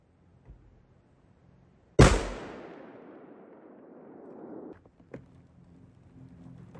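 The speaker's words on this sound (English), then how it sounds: "we're gonna shoot it with this, and we're gonna see what it does" A single sharp, loud gunshot fired at military body armor cracks out, followed by a long decaying ring and rumble, then a few faint clicks and knocks afterward.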